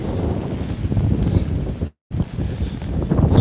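A strong wind gust from Hurricane Ian rumbles and buffets the microphone outdoors, loud and continuous for several seconds with a sudden brief dropout midway, and no voices.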